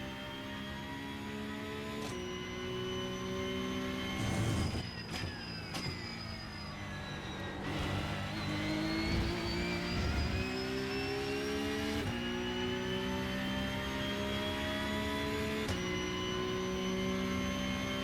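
Race car engine in the iRacing sim, a loud sustained harmonic whine that rises and falls repeatedly through gear shifts, lifts and throttle around a hairpin, with sharp shift cuts and no talking.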